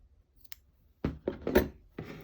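Scissors snip the yarn end on a crocheted palm leaf earring, a few close, crisp cuts in quick succession after a faint tap, with no talking.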